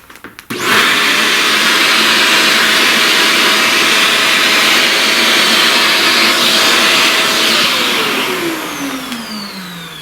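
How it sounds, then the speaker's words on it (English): A vacuum cleaner roars up loud and close, sucking up pastel dust from a flower drawing, holding a steady whine for several seconds before its pitch starts to sag toward the end. "Vacuum all that."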